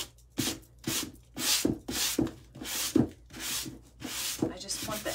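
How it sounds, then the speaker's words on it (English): Scuffing the painted edge of recycled blue jean wall art gives about ten rhythmic, close rubbing strokes, evenly paced, each a short raspy scrape like sanding. "forgot to scuff up the edge. All right, let me do that real quick"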